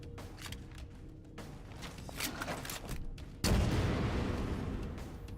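Rocket launcher fire in a modded Halo 4 game: rapid crackling gunfire and bursts, then a sudden deep booming explosion that stays loud and rumbling to the end.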